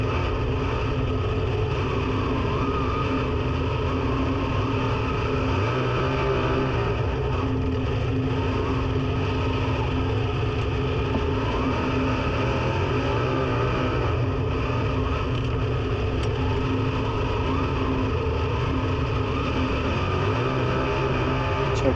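A sprint car engine roars steadily at speed on the Ventura oval during an Ultimate Sprint Car Series race, a loud continuous drone with no talk.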